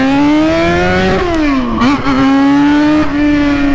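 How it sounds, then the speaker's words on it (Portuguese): Loud, close XJ motorcycle engine roaring at a steady high idle, its pitch dipping and rising with a couple of brief throttle blips. "E a moto tá aqui, ó, berrando."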